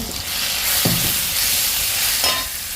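Ginger garlic paste drops into hot oil and fries with a loud, close, steady sizzle and hiss, broken by a couple of brief stirring scrapes.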